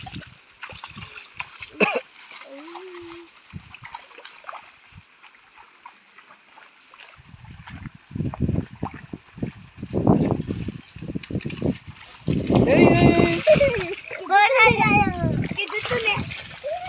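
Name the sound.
children splashing water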